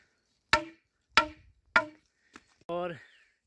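Three sharp, hollow knocks on a cut bamboo stick at an even pace, then a lighter tap and a short resonant ring, close and clear against silence.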